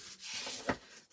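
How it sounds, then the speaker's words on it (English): A tool burnishing a card storage box for craft supplies, a short quiet rubbing stroke with a brief scraping swell in the middle. "We need to give this a good burnish."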